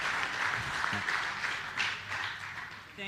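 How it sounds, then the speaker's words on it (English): An audience applauds at an agricultural big data convention, a moderately loud, continuous patter of many hands with a faint voice underneath. "Clap for me like you clap for potatoes."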